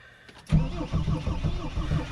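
A Mercedes Sprinter T1N van that had been sitting abandoned cranks briefly, then catches and fires up, settling into a rough, lumpy idle close by.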